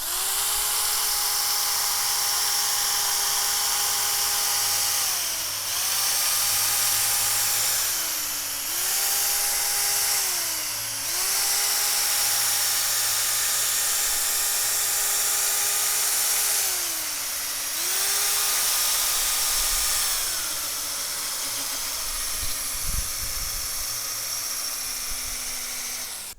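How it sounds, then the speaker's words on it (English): Steady motor-like whirring from a 3M headlight restoration kit's P800 sanding pad working a car's headlight lens, with pitch dipping and rising as pressure changes and brief pauses between passes; continuous, close and fairly loud with no talking. "We just finished sanding with the P800 pads"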